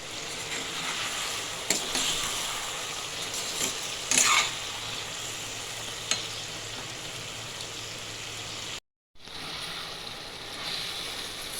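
Bilimbi pickle sautés in hot oil with the fruit's own released juices, giving a steady, close crackling sizzle with a few sharper stirring clicks and one brief dropout.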